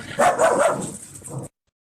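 A pet dog at home gives a short, close burst of a few barks and yips, lasting about a second before cutting off, with no one talking.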